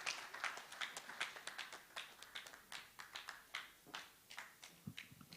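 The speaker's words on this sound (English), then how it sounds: "Again, a round of applause" An audience claps through a round of applause at a memorial tribute gathering, a dense run of sharp hand claps rising and falling in waves, fairly close and steady, with no talking over it.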